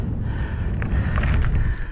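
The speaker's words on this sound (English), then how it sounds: "It's windy." Strong wind on a trail at Ike's Peak, Las Vegas, buffets the microphone with a continuous low rumble, loud and close, with faint sounds barely audible beneath it.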